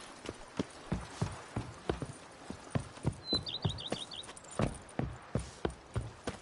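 Horse hooves from the Witcher 3 game, clip-clopping in a steady rhythmic gait at moderate distance, with a brief chirping bird call partway through.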